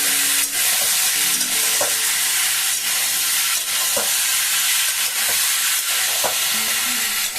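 Potatoes tossed with salt are stirred in a hot pan, a loud close sizzle with repeated scraping strokes of the spoon at a slow, regular pace.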